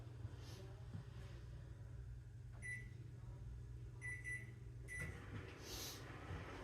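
A microwave oven hums steadily while warming avocado oil and fragrance oil for hot process soap, with a few faint clicks and a soft beep-like tone along the way.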